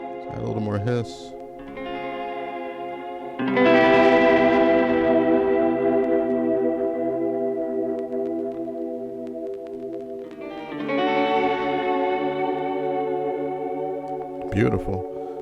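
A synthesized chord plays dry, then is struck again with reverb and a vinyl-style hiss layer added, ringing out long with tails that fade. Brief percussive blips open and close the passage, with no voices.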